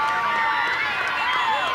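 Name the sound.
crowd cheering at the end of a rugby league game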